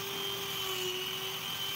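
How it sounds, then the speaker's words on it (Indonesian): A steady, high-pitched motor whine from a handheld angle grinder smoothing the sawn end of a 3/4-inch PVC pipe runs unbroken at close range, with no talking. "saya punya gerinda tangan dan saya manfaatkan untuk meratakan ujung pipa ini"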